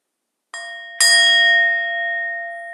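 A meditation bell is struck twice during a guided meditation: a light first tap, then a fuller strike half a second later that rings on with a long, steady, shimmering sustain in a quiet room.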